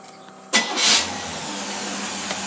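An antique car engine with a two-barrel carburetor cranks and catches with a loud burst at close range, then settles into a steady, low idle around 500 rpm.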